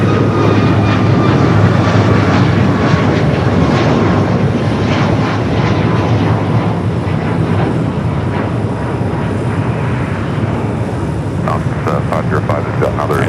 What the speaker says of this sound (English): we got that Hawaiian A330 heading down for a south side at takeoff